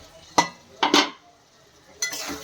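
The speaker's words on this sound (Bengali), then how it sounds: "এবার আমি ঢাকাটা খুলে নেব" A metal lid comes off a cooking pot of banana flower and prawn curry, giving a few close, sharp clinks and clatters of metal against metal, each brief, with quiet pauses between.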